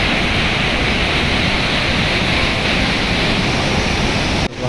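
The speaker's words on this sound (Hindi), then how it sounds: "नदी का बहाव बहुत ही ज़्यादा है" A swollen, fast-flowing river rushes at the Vishnuprayag confluence in Uttarakhand, a loud, steady broadband roar that fills the scene without pause before a brief dip near the end.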